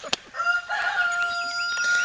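Chickens cluck on a small farm that also keeps Nubian goats, and a rooster's drawn-out crow rings out clearly nearby over a sharp opening cluck.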